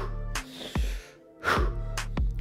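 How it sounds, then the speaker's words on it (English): A person takes deep breaths during a fitness warm-up, each one a sharp inhale followed by a hard, forceful exhale through the mouth, repeated in a loud close rhythm with short pauses. "take five big deep breaths"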